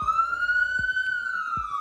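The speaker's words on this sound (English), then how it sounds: "It looks and sounds like a police car" A police car siren wails in a long, steady rising-and-falling tone, loud and close, with faint low thumps underneath.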